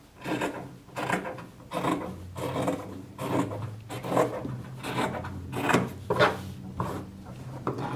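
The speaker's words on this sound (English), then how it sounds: "take my scissors and I'm going to give myself about an inch distance from the disc, and I'm going to cut a circle out" Scissors snip repeatedly through fabric while cutting a circle out around a mousepad disc, giving rhythmic rasping cuts roughly every second, close and moderately loud, with no talk.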